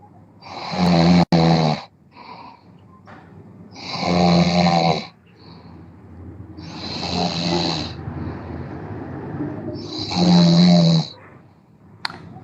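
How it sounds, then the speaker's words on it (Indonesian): Loud rhythmic snoring from a person, four long rasping inhalations spaced about three seconds apart with quieter breathing between them, heard alone. "Itu kenapa ngorok ini?"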